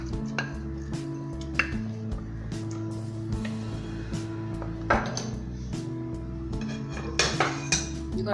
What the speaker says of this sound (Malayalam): നമുക്ക് താളിച്ച് വെച്ചിട്ടുള്ള ഉള്ളി ഇതിലേക്ക് ഒഴിച്ച് ഇളക്കിയെടുക്കാം